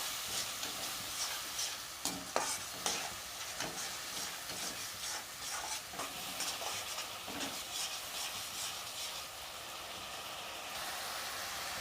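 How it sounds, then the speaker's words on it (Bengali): Ground tomato paste fries in a pan for chilli chicken, giving a steady, fairly faint hiss and sizzle with intermittent scraping stirs throughout, no voices. "বেটে রাখা টমেটোর বাটাটা দিয়ে দেবো। এটা ভালো করে টমেটোটা কষিয়ে নেব।"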